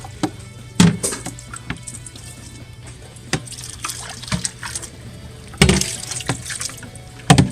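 Tap water running into a sink while a sponge and plastic tub are rinsed, with irregular splashes and sharp clatters of handling over a steady low hum, close and moderately loud.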